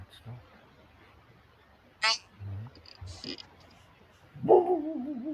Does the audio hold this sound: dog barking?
yes